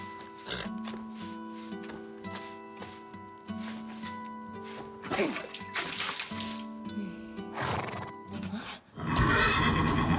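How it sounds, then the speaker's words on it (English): A horse whinnies repeatedly in an anime episode, with neighs and hoof clops over dramatic music, ending in a burst of noisy splashing. "Horse."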